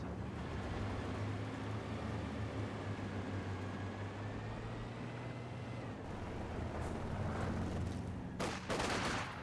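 MG42 machine gun fire in the Company of Heroes 2 video game, heard as sustained rattling gunfire over a low rumbling battle ambience, with a louder burst of shots near the end.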